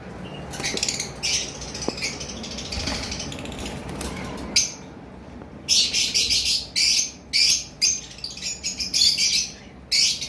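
Pet birds, including lutino and opaline birds, call at a bird farm in a steady chatter of chirps and sharp squawks, the later calls loud, close and coming in rapid repeated bursts with no talk.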